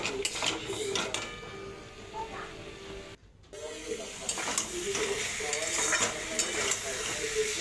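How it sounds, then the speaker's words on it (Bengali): Spice paste of ground coriander, cumin and salt frying in a pan while being stirred, with steady sizzling and scraping strokes of a spoon, a brief near-silent gap midway, then continued frying. "একটু নাড়িয়ে চাড়িয়ে নিলাম।"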